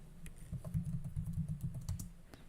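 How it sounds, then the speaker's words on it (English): Quick, soft keystrokes clatter on a computer keyboard in a steady burst, close and moderately quiet over a low background hum, with no talking. "I'm like typing in"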